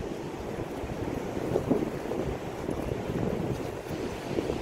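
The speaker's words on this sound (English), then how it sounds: "There really is no replacing the sound of the crashing waves." Waves crash steadily on the Atlantic shore of Cumberland Island, Georgia, a continuous broadband roar of surf with some wind noise over it and no voices.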